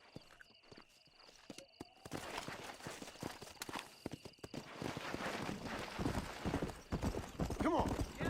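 Horse hooves clip-clop steadily in the Red Dead Redemption video game, with a whinny and footsteps as the animal moves and speeds up, and a voice talking over the game sounds.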